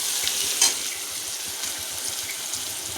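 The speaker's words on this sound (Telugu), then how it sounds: "కట్ చేసి పెట్టుకున్న ఆయిల్లో ఈ ఆనియన్స్ని వేసుకోవాలండి" Chopped onions hitting hot oil in a pan, about two spoonfuls of oil, for a Telugu-style prawn fry, giving a steady, close sizzle with a brief louder crackle near the start and no talking.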